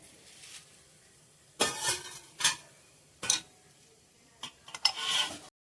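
A spoon stirs homemade ghee as it melts in a small pan, giving a few soft metallic scrapes and clinks in short bursts separated by quiet pauses.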